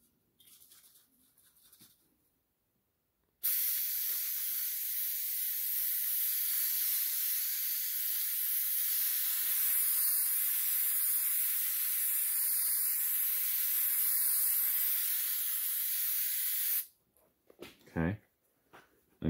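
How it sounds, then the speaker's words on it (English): An aerosol can sprays adhesive onto the seat cover of a 1985 Honda ATC 350X, a loud, close, steady hiss lasting about thirteen seconds, with brief handling noises before and after. "Need to spray this on the seat cover as well."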